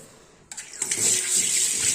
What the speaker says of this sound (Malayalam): കുറച്ച് വെള്ളം കൂടെ ഒഴിച്ചൊന്ന് കഴുകി കാണിക്കാം